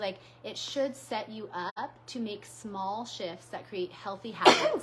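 A sneeze bursts out near the end, following steady conversational speech from a woman during a casual talk show.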